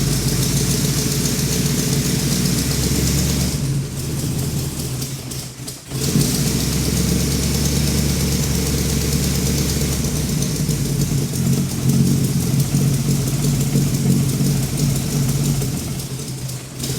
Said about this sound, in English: Got to give her a little more on the idle.